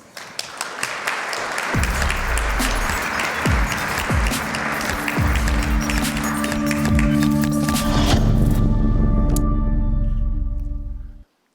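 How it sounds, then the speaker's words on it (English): A conference audience gives a long, loud round of applause, dense and sustained throughout, swelling slightly before cutting off abruptly at the end. "Please join me in giving Brendan a huge round of applause"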